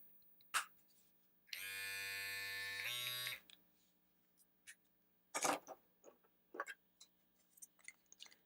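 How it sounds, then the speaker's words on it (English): Cordless USB-rechargeable precision trimmer switched on for under two seconds, a close, steady electric buzz that shifts pitch just before stopping, surrounded by scattered handling clicks and taps. "So here's a little precision trimmer."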